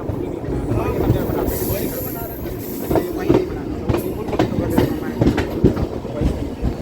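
The Delhi–Kamakhya Brahmaputra Mail, an Indian Railways express, rolls past at close range with a steady rumble and rhythmic wheel clatter. Voices talk over it.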